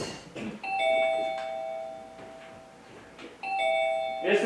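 Doorbell chiming indoors, two clear ding-dong rings spaced a few seconds apart, bright tones ringing out and decaying, with faint background voices and rustling between them.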